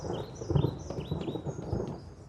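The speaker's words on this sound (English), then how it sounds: "I can't hear anything because of the storm." Cartoon thunderstorm: low rumbling thunder and rain fill the scene at moderate level, with faint chirping squeaks and small knocks above the steady storm wash.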